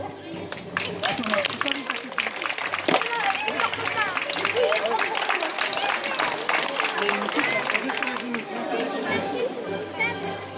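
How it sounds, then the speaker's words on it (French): Audience applause for a fencer wearing the coat of arms of Orléans at a medieval parade, heard as dense, steady clapping mixed with crowd chatter and an announcer's voice throughout. "Donc vous pouvez aussi l'applaudir."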